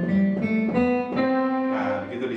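Kurzweil SP4-8 digital piano playing a synthesized guitar tone, a handful of sustained notes changing every half second or so, steady and moderately loud.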